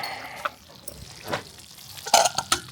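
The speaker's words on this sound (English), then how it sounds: "Bubbling in its grease." Campfire-cooked food bubbling in hot grease gives off scattered soft pops and sputters, with a few louder bursts near the end, close by and fairly quiet.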